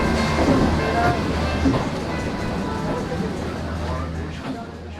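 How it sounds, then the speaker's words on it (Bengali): A local train pulls out of Sealdah station, its loud, steady rumble of wheels and carriages rolling on continuously over faint background voices. "8:15 শিয়ালদা থেকে ছেড়ে দিল আমাদের ট্রেন"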